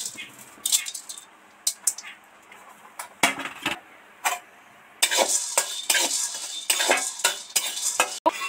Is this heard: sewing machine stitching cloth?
no